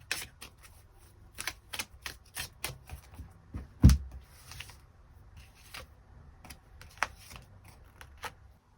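Tarot cards being shuffled and drawn: a run of crisp, close riffling snaps and flicks, one sharper thump midway, then scattered softer card slaps toward the end, with no voice.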